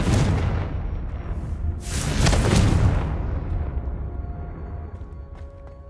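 The Confringo fire spell explodes in Hogwarts Legacy with a loud, close burst that peaks a couple of seconds in, then rumbles and fades away into quiet.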